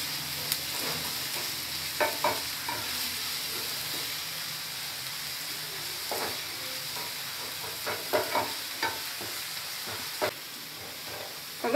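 Onions sizzle gently as they brown in an electric rice cooker pot. Intermittent scraping and stirring clatter comes from a spoon, close by, over a steady low frying hiss, with no talk.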